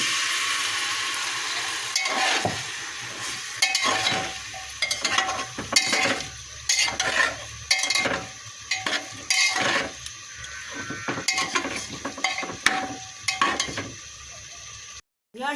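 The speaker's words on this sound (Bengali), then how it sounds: "আমি এখন মাংসটা দিয়ে কষে নিব" Pigeon meat being stir-fried in a wok: repeated scraping strokes of a spatula against metal over a steady sizzle, close and fairly loud.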